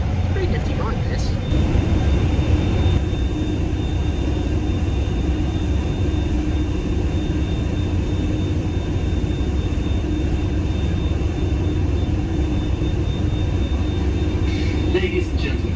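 A passenger hovercraft crossing the Solent toward Southsea roars continuously with a loud, steady engine and fan drone heard from inside the cabin, while an announcer speaks over the noise.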